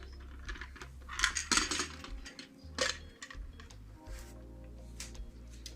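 Metal cake pan and cake stand clatter during a fast flip of a pineapple upside-down cake, with a few sharp knocks and rattles close by over a quiet background.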